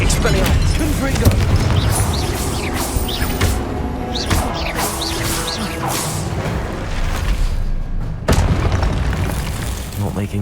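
Confringo blasting spells in the Hogwarts Legacy video game, heard as repeated booming explosions and crashes amid dense, loud combat noise, with a voice casting spells over the din.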